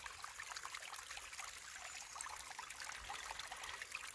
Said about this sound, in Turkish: Evet, suyun sesini duydum.